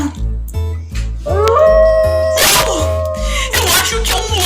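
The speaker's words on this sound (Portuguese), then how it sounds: "É só um cachorrinho." A small cartoon dog yips, barks and lets out a rising howl against a steady rhythmic backing beat, in a lively animated forest scene with nearby tonal cries and bursts.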